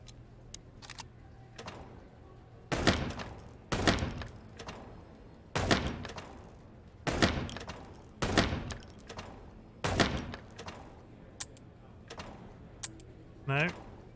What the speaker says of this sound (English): I would like to use the shooting range.